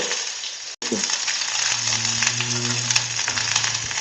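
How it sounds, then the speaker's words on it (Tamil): Halved small onions and garlic cloves fry in a spoonful of oil, hitting the pan with a sudden hiss that settles into a loud, even sizzle close up, with no speech. "ஒரு ஸ்பூன் எண்ணெய் ஊற்றிருக்கேங்க இப்போ நாலு சின்ன வெங்காயங்க ரெண்டு ரெண்டாக வெட்டி வச்சுருக்கேன்"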